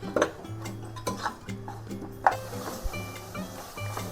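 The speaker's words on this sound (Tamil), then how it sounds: "வெங்காயம் தக்காளி ரெண்டும் ஒன்றா அப்படியே நல்லா வதங்கியிருக்கு பாருங்கள்" Onions and tomatoes for a soya chunk biryani are stirred in a pan, with scattered spoon scrapes and clinks against the metal over a quiet background hum.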